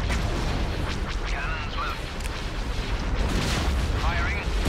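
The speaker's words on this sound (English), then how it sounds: "Cannons" Cannon fire rumbles through a Star Wars video game space battle, with dense, continuous low booms and blasts layered over a busy battle soundscape and occasional whooshing effects.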